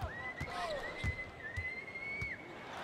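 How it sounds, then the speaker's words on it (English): A referee's whistle blows during an NBA 2K19 basketball game between the Lakers and Nets, a sustained high tone lasting about two seconds over arena crowd noise and bouncing ball thuds. "Whistle blows."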